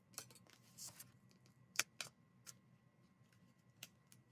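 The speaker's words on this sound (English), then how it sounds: "I'm going to get my smaller scissors to cut off this offset on this side" Small scissors snipping through paper, a handful of crisp, isolated cuts spaced irregularly, close but quiet against a faint background hum.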